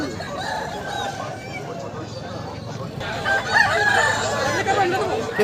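Chickens and roosters crow and cluck at a busy poultry market, a steady din of birds with crowing calls rising near the end over background crowd chatter and voices.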